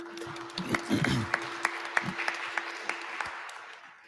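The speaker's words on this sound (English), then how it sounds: "Let's give a round of applause." Audience applause at a community engagement forum, a burst of clapping that swells then thins into scattered claps over a steady hum, with faint talk underneath.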